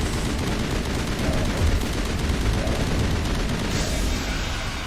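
Dense, continuous gunfire from the neural shot ability in Mass Effect Legendary Edition rattles on without pause, loud and close, with rapid overlapping bursts and booming low rumble underneath.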